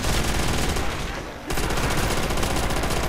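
Sustained rapid gunfire from a weapon in a Call of Duty zombies custom map, loud and continuous, with a brief lull partway through before the shooting resumes at full intensity.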